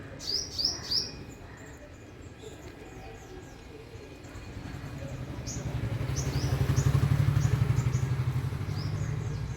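Several small birds chirp and tweet in quick bursts in a tree, fairly close, while a low engine rumble swells in the background partway through.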